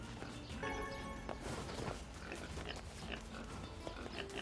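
Goats bleat and shuffle about in the video game NieR Replicant, soft animal calls and light hoof-like steps over a quiet in-game ambience, fairly faint throughout.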